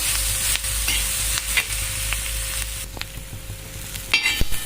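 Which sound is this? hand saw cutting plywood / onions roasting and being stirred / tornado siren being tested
onions roasting and being stirred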